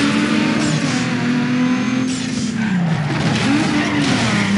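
Race cars in the Need For Speed Underground 2 video game, loud engines wavering up and down as they drive, with tyre squeals and skidding running through the whole stretch, no speech.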